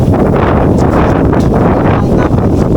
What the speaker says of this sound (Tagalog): grabe grabing hangin mahangin maalon